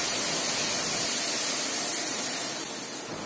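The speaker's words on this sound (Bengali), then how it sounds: "মশলাটা কষে গেলে একটু জল দিয়ে দিলাম।" A loud, steady hiss and sizzle fills the whole moment as water hits spiced masala frying with potatoes and chopped tomato for a fish-roe omelette curry, close and continuous.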